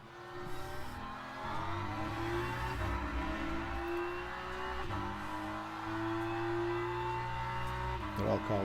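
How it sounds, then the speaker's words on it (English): Race car tyres squeal while sliding through corners in a racing video game set at Spa, a sustained high engine drone with tyre screech, with a player talking over it. "Sliding around there, yeah, the tyres squealing."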